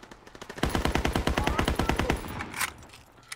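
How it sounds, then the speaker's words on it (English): Rapid bursts of mounted machine gun fire in Call of Duty WW2, a loud rattling volley of about twenty close shots lasting over a second, then tapering into quieter background battle noise. "Oh, they have a dude in the mounted machine gun."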